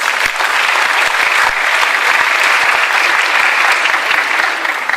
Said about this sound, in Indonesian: Kalau setuju tepuk tangan.